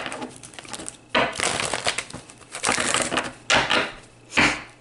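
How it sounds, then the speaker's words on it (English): A deck of tarot cards is shuffled close by in several bursts of riffling and crisp card slaps, separated by short quiet pauses, with no voices. "I'm going to shuffle until it says no more"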